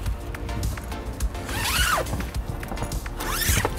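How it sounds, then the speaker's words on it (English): Two drawn-out zipper pulls on a 2024 Hyundai Tucson cargo net rasp nearby, each a rising then falling whir, over a low steady background rumble. "Then you can also unzip this net"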